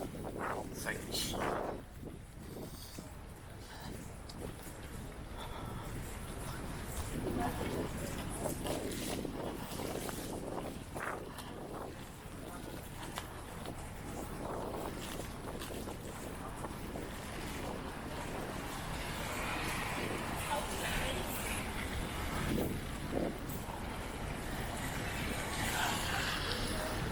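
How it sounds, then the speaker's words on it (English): Strong wind buffets the microphone on a wet night street in Blackpool, a steady rushing roar with gusts swelling and easing throughout, while someone talks over it. "This wind's trying to get me, Cal."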